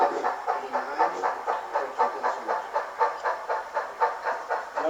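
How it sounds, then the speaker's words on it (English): A model railroad steam locomotive runs along layout track with a steady, rhythmic chuffing exhaust beat, close and moderately loud, with no voices over it. "Love the sound of those steam engines."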